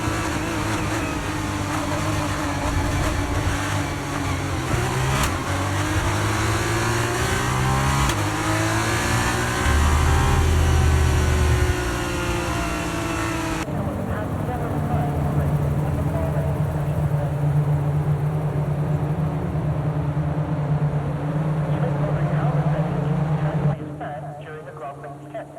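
Formula 2 race car engines idle and rev on the Bahrain starting grid in the F1 23 game, a loud droning engine note with shifting pitch and rising revs, while a voice talks over it.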